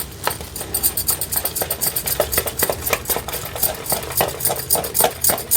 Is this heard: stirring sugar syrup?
yes